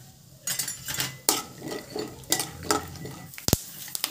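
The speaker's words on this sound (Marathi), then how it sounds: "आता ह्याच्यामध्ये 2 चमची तेल घालायचं कढईमध्ये। आता शेंगदाणे भाजून घ्यायचे।" Peanuts roasting in a little oil in a kadhai, with repeated scraping and clinking of a metal spoon against the pan, a soft sizzle underneath, and a sharp knock near the end.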